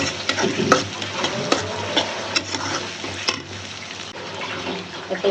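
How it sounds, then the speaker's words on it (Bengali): Spice paste of mustard, poppy seeds, nuts, cumin and garam masala frying in a pan for mustard chicken, with steady sizzling and repeated scraping stir strokes close by, alone without talk. "পেস্টটা ভাজা ভাজা হয়ে গেছে।"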